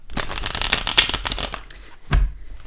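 A deck of cards riffled in a quick crisp flutter for about a second and a half, followed by a brief tap as the cards are squared, close and loud.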